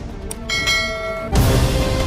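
A notification bell sound effect rings out with a bright, sustained chime, followed by a second louder swell near the end, standing alone without speech.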